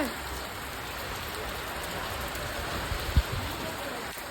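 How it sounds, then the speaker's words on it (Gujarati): Steady, even hiss of rain falling on surfaces, with a brief low thump near the end; constant and moderately loud, no voices. "તો અમારે તો અહીંયા વરસાદ પડે છે"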